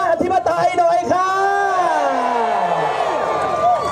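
Protesters marching to the Thai parliament cheer and shout back at someone speaking through a loudspeaker: a loud, sustained roar of many voices with whoops, swelling and holding at close range throughout.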